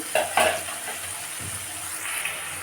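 Onions frying red in mustard oil as chopped tomato goes in, with a couple of sharp stirring clatters and a soft continuous sizzle close by.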